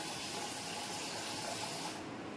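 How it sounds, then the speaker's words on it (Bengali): Rice is rinsed under a running tap in a kitchen, a steady gushing stream of water that pours continuously and fairly loudly without any speech. "চালটা ধুয়ে নিই।"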